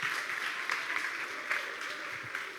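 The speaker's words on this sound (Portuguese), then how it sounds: "palmas" A congregation at a church service claps briefly, a soft, fairly distant patter of applause with no voices standing out.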